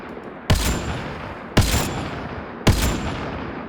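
Three evenly spaced, sharp sniper rifle shots from the Mass Effect Andromeda video game, each a loud crack followed by a short ringing decay over low steady background noise.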